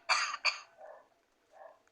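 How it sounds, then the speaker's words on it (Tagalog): Two quick, close coughs in a row, followed by fainter, softer breathy sounds. "Ubo."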